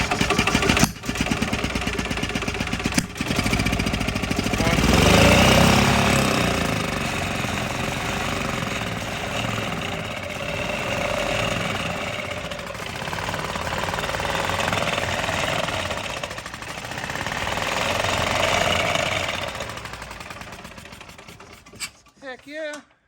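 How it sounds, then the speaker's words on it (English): A Yamaha golf cart fitted with a Harbor Freight Predator gas engine runs with a rough, rapid chugging for about twenty seconds, its intensity swelling and easing before it cuts off with a few final sputters. "So jump box is on. So it should run if I hit the gas."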